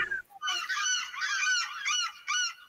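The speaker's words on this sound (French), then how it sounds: "J'ai mis un petit fond de mouette." A seagull background sound effect: a near, loud run of harsh, repeated nasal calls in several bursts, with no voices.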